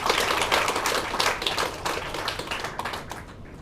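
Hall audience at a Tamil poetry event clapping for first-time poets, a dense, lively burst of many hands close by that slowly thins out toward the end, with no talk over it.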